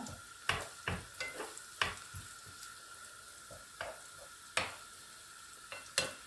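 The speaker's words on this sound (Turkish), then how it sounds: "Evet gördüğünüz gibi yumurtalarım pişmeye başladı" Eggs with onions cooking in a pan at breakfast, heard close but quietly: a soft sizzle beneath a series of sharp clicks and taps at irregular intervals, no talking.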